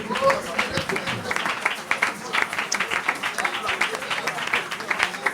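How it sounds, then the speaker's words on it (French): Congregation at a church worship service clapping hands together while praying, a dense, steady patter of many hands filling the room from start to finish, with voices mixed in beneath it. "Prie en acclamant les mains."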